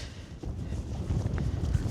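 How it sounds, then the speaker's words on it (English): Wind gusts across an exposed hilltop on the way up to Stoodley Pike, a low, steady rumble buffeting the microphone for the whole two seconds with no voices. "it is getting very windy up here"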